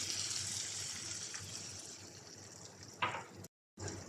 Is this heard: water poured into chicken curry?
yes